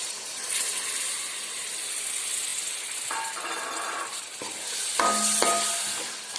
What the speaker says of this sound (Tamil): இப்போ இதில் நம்ம புளி தண்ணி சேர்த்துக்கிறோம்.